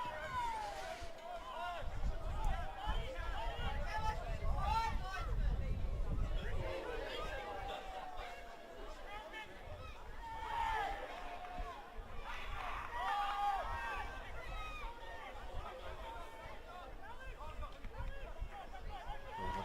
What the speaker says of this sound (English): you can hear what the crowd thought of that